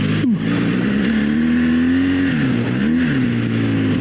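Dual-sport motorcycle on knobby adventure tires ploughing through deep, soft sand, its engine droning loud and close with a steady pitch that dips and rises slightly as the throttle shifts, without any talk.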